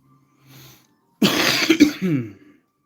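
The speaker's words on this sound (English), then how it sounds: "Oops, sorry to cough in the microphone there." A single loud, close cough followed by a short throat-clearing rasp, after a faint low murmur.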